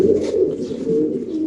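Long face pigeons coo steadily close up, a warm, low rolling murmur that swells and fades in short phrases with no talking over it.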